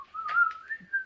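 A person whistles a short, wavering tune alone, one sustained note sliding slightly upward with faint breathy bursts, heard close and clear.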